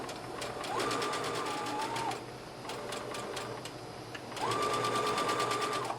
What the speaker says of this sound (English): in my needle down position, I'm going to straight stitch